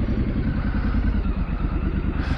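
A Triumph motorcycle rides along a residential street while its new front tyre is scrubbed in, the engine giving a steady, loud mid-pitched drone with some mechanical clatter throughout, close to the listener, with no talk.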